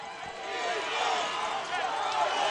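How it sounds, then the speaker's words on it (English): A high school football crowd at a homecoming game roars in support of the home team, a dense, sustained wall of cheering and shouting that holds for a few seconds with a commentator's voice over it. "As the crowd here at Grandview High School erupts in support of their Bulldogs"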